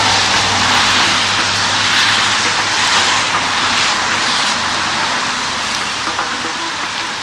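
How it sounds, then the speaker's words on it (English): Car tires hiss steadily over a wet road in the rain, a broad continuous wash of spray noise with a low engine or road hum underneath, loud and close throughout. "It's basically the wet road and the tires."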